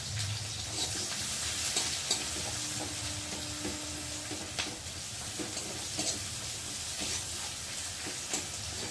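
Chopped onion and green chili frying in hot oil for a Bengali potato and fish curry, a steady close sizzle with occasional soft stirring clatter, no talking.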